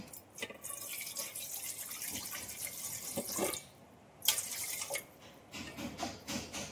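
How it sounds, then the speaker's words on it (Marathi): Water runs from a tap into an idli steamer pot, a steady splashing stream near the mic with a short break in the middle before the flow resumes, and no talk. "हे माझ्याकडे इडलीचं भांडं आहे. आता यात मी थोडं पाणी ठेवते."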